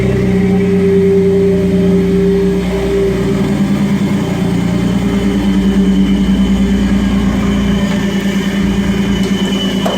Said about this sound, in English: There's that exhaust.